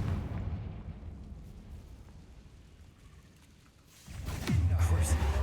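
In a Harry Potter video game, a Confringo explosion spell goes off after a quiet, low rumbling stretch. A sudden loud burst erupts with a booming roar and a rising, whooshing tone.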